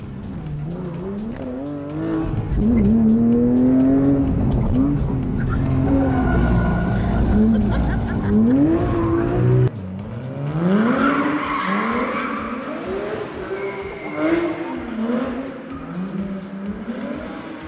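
Porsche driven hard, with loud rising and falling engine revs and long tire squeals through fast corners heard from inside the car.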